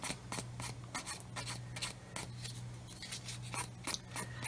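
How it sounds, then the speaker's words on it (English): Hand sanding of a part for a Tamiya 1/16 scale RC Sherman tank model, steady rhythmic rasping strokes repeating about twice a second, close and continuous over a low constant hum, with no talking. "I'm just stroking it across 45 degrees, and I'm not pushing down, I'm letting the sander do the work"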